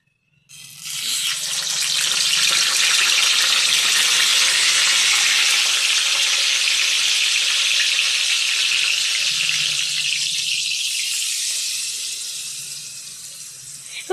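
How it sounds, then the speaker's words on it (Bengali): Loud, sustained hiss and sizzle as water hits hot oil with frying chili, turmeric and tomato in a pan, surging at once and then slowly settling into a gentler bubbling over several seconds. "জল দিয়ে দিলাম, জল দিলে না হলে ভাজা ভাজা হবে না"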